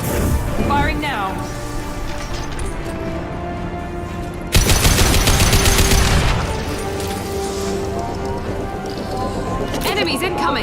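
Gunfire in Mass Effect 2 breaks out as a sudden dense burst mid-clip, layered over a busy game soundscape of steady tones and effects, with talk around it.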